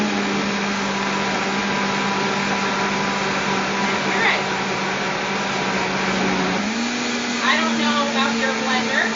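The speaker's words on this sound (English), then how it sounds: "this is a Vitamix, and the Vitamix is the bomb, and it will chop up all those apple peel, no problem" A Vitamix blender runs steadily, purée of butternut squash, apple with peel and herbs churning under a constant high motor whine that shifts slightly in pitch near the end, close and loud throughout.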